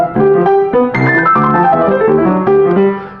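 Solo jazz piano playing a descending pentatonic scale run, a cascade of bright notes stepping downward over sustained chords, loud and close, with no voices.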